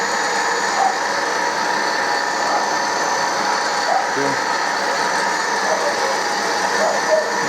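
A 16U04P lathe with a newly fitted frequency drive runs its feed mechanism, giving a steady, close mechanical whir with fine ratcheting gear texture throughout, no talk.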